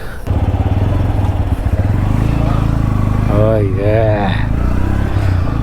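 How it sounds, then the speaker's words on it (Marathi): A motorcycle engine chugs loudly and steadily up close, its revs rising and wavering midway, while a person talks over the running engine. "आयुष्यात पहिल्यांदा ही बाईक चालवतोय"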